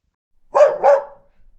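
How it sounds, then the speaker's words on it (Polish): A dog gives two quick, close barks in a row, then silence. "Piesek robi hał,"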